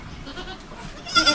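A goat, one of a farm's young does, gives a short bleat near the end of a brief stretch of quiet pen noise, fairly close and moderately loud.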